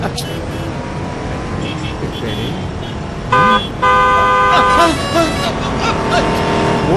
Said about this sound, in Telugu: హారన్ కొట్టినా మీకు వినిపించడం లేదు